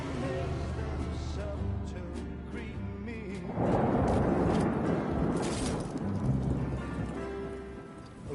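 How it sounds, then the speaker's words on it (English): Rain in the video game Death Stranding 2, a broad hissing downpour that swells in the middle, with a deep rumble like thunder and other game sounds underneath. "Rain"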